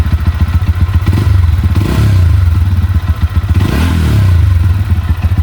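A GR200R motorcycle with its stock exhaust idles with a rough, throbbing putter, then revs up twice in quick surges before settling back, loud and close.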